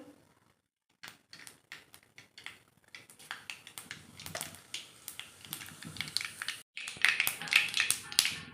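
Mustard seeds, then cumin, crackling and popping in hot oil while tempering for a Gujarati okra kadhi, with rapid irregular sharp pops that build steadily and grow denser and louder toward the end.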